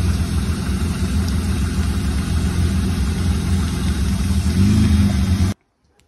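A BMW 323i coupé with a suspected head gasket fault idles as it warms up, a steady close engine hum running evenly for several seconds before cutting off abruptly.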